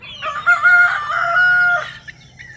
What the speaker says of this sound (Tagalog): Yan mga yan, Rhode Island, bagong kabir.